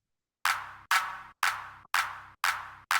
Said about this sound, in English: see if we can get the sound of a Roland TR-909 clap